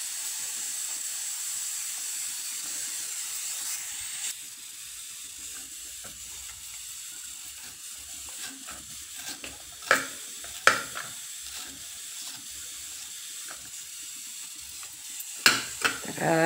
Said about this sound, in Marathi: तर आता मी हे वाटण तळून घेते।